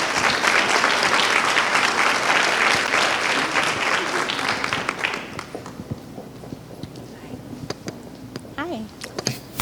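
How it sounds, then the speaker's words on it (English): Loud audience applause fills a school gathering hall for several seconds, dense clapping that thins out toward the end, with scattered claps and a brief voice near the close. "So let's give them a round of applause."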